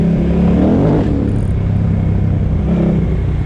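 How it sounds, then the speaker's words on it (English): A KTM 990 Adventure motorcycle roars loudly and close up as the throttle is worked hard, its engine pitch rising and falling through a continuous, heavy exhaust drone. "I like to ride with a lot of throttle on these big bikes"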